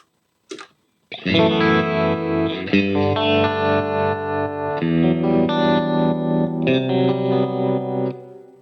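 Sustained electric guitar chords through a Line 6 Helix Stomp XL with a rhythmic pulsing tap-tempo tremolo, the volume wavering steadily, after a brief plucked note at the start.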